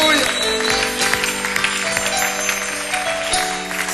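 A church congregation applauds in acclamation during worship, a dense, steady wash of clapping under sustained musical tones and voices, continuous throughout.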